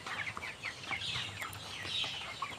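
Chickens inside a poultry farm house clucking in quick, overlapping bursts, a moderately close, steady flock chatter with no talk over it.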